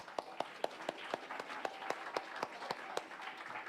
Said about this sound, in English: Now you clap.